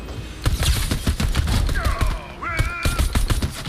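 A pistol fires rapidly in a Fortnite match, sharp repeated shots in a dense, loud burst, with faint game effects and tonal sound cues in the middle.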